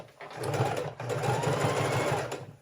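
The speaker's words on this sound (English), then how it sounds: "This heavy duty machine is actually a lot cheaper than my quilting sewing machine." A heavy duty sewing machine stitches a fabric book cover, its needle motor running in a steady close whir with a short pause partway through, no talk over it.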